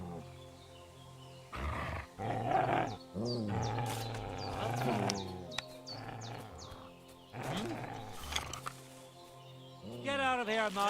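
A dog growls and snarls in Kingdom Come: Deliverance II, deep rumbling bursts mixed with game sounds and voices, loud and close across the whole stretch.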